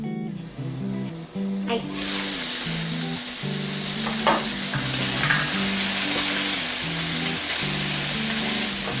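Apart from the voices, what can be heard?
pork spare ribs searing in a covered waterless pot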